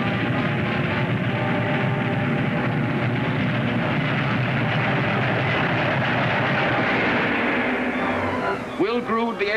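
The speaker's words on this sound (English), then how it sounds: "That sounds like a train." A loud, continuous train roar and rattle fills the clip, easing off near the end as voices begin.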